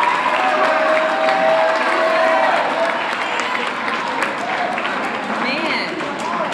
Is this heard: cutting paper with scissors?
no